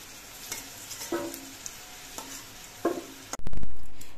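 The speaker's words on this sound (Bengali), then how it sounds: "আলুগুলো ভাজার সময় আমি অল্প একটু নুন দিচ্ছি।" Soft background sizzle of potatoes frying in oil, broken by a few utensil scrapes and clinks, then a sudden loud rush of hissing near the end.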